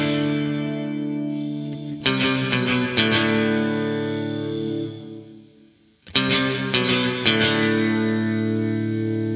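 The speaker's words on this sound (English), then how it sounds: "the bandwidth toggle is going to turn down the sample rate reduction on the reverb, so it gives you that odd digital robot sound" A tonal synth-like signal runs through a lo-fi reverb with heavy sample rate reduction, giving a gritty, metallic robotic shimmer; two sustained phrases with choppy stuttering attacks, the first decaying to near silence before the second starts loud.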